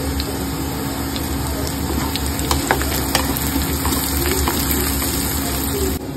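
Chopped onions sizzle and fry steadily in a pan with turmeric, a dense continuous crackle with occasional sharper pops and stirring scrapes, close and alone without talk.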